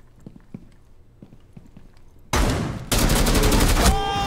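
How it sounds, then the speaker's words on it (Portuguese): Gunfire in the video game Rainbow Six Siege: faint footsteps and small clicks, then a sudden loud burst of rapid automatic shots that ends with a metallic ring. "Acertei um tiro no cara, velho."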